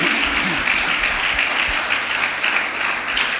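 Congregation applauding inside a church during a Spanish-language service, a dense, steady wash of clapping held at an even level throughout.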